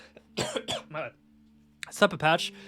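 A few short coughs and throat-clearing bursts close up, with a pause between two clusters.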